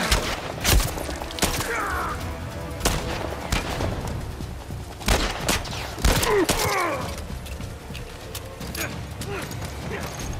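Gunfire from a horror survival video game, sharp shots cracking at irregular intervals amid game noise, with excited players talking and yelling over the action.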